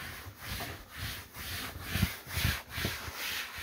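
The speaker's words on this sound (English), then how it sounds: "the more that you buff it, the more it helps bond it into the fabric" A hand rubs and buffs protectant into the fabric top of an RV cushion, making soft, rhythmic back-and-forth scrubbing strokes about twice a second, faint and close, with no speech.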